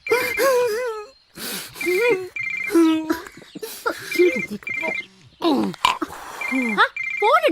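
A mobile phone ringtone chirps repeatedly in short bursts during a Malayalam film scene, interleaved with emotional, wailing speech from the people in the scene.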